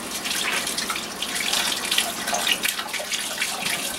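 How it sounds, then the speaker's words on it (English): Cold tap water runs steadily over a freshly gutted smelt being rinsed in a sink, a continuous close splashing hiss with no talking. "then just run it under water"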